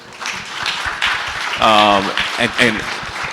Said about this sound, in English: Clap it up for our panelists.